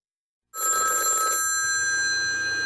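A telephone bell begins ringing abruptly after a short silence, a sustained bright electronic trill that continues steadily to the end.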